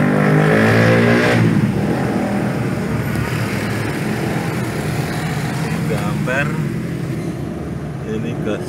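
A car engine fitted with an HHO device, on a Toyota Harrier or Daihatsu Taft, revs loudly and close with a steady roar, while people talk over it throughout.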